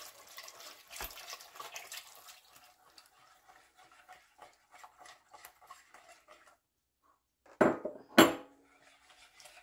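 Milk poured and stirred into a gluten-free, starch-free pudding batter in a bowl: soft continuous splashing and clinking of a utensil for several seconds, a quiet pause, then two short louder splashes or knocks near the end.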